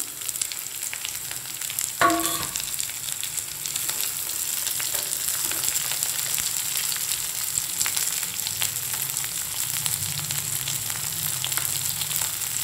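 Okra sizzling and frying in a hot pan, a steady crackle with a clatter as it goes in.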